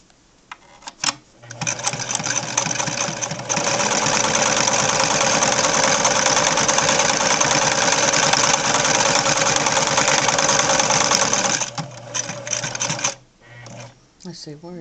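Steady mechanical whirring from a Singer Fashion Mate 360 sewing machine stitching nonstop for roughly ten seconds at close range, preceded and followed by short clicks, taps and stop-start bursts as the fabric is handled.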